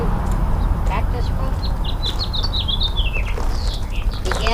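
Small birds chirp and twitter around ripening cactus fruit in an outdoor container garden, a string of quick high calls rising and falling over steady low background noise.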